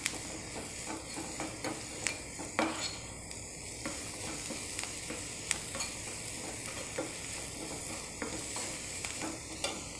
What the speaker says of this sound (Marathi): चिंच आणि गूळ, मीठ आणि हे परतून घेते।